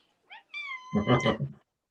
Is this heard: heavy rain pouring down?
no